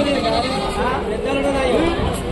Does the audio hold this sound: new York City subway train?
no